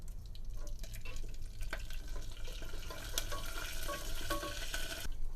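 Whole spices and curry leaves sautéing in hot oil for a bottle gourd coconut curry, a steady broadband sizzle with scattered crackles and faint stirring clinks running through the clip, close and continuous without talk.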